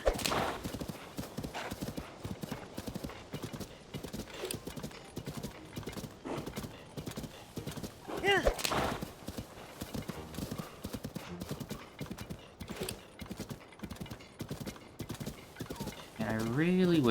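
Horse hooves clip-clop at a steady gallop in The Legend of Zelda: Tears of the Kingdom, running on through most of the stretch with game music and a neigh, while someone talks over it.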